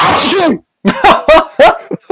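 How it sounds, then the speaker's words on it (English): One big, loud sneeze bursts out close to the microphone, quickly followed by people laughing and talking. "That that was a big birthday sneeze."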